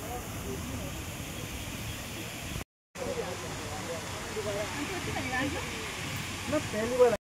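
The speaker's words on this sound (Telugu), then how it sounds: "ఇక్కడైతే చిన్న వాటర్ ఫాల్స్ అయితే ఉంది, చూద్దాం." A small waterfall outdoors gives a steady, even rush of falling water at moderate level, broken by one brief dropout partway through.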